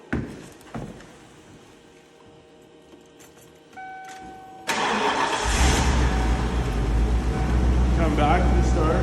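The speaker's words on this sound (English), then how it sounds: "you can simply start the motorhome" A 1992 Triple E Regency 797 Class C motorhome engine starts after a few clicks and rattles in a quiet cabin, cranking, then catching into a loud, steady idle that runs to the end.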